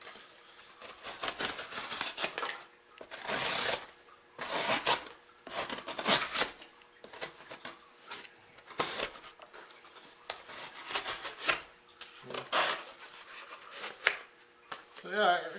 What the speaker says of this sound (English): I'll cut some cardboard with this thing here.